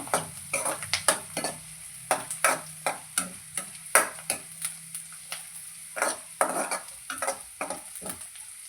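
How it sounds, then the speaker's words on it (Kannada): Sweet corn frying in a pan is stirred with a utensil, giving repeated close scraping strokes in an uneven rhythm over a low, steady sizzle. "ಸ್ವೀಟ್ ಕಾರ್ನ್ ಸ್ವಲ್ಪ ಫ್ರೈ ಆಗಿ"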